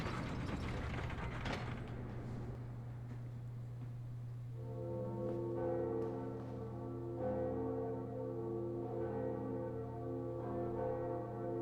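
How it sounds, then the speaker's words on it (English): Bells ringing in Dark Souls Remastered after a boss is beaten, with a faint chime pattern of layered tones emerging midway and repeating over a steady low hum. "if you're online and you hear the ringing of the bells, that's somebody else in their world beating gargoyles or Quelaag"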